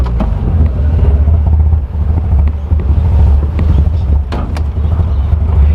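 A Mazda RX8 with a 13B rotary engine that has trouble revving sits idling, giving a steady, loud, low-pitched drone with a rough pulsing texture, up close, with some wind buffeting the microphone.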